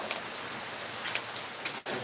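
Steady rain patters on a surface, a continuous hiss with a few brighter drop splashes, fairly close and alone.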